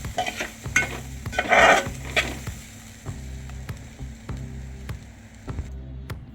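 Green chili and lemon mixture being stirred in a pan, a loud burst of sizzle early, then repeated rhythmic scraping strokes of a spoon with light clicks, close and moderately loud, nobody talking.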